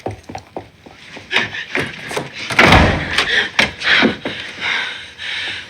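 A door slams shut in a heated, violent argument scene from the crime drama The Sopranos, landing as a loud heavy thud amid knocks and thumps. Raised voices and a viewer's reaction are heard around it.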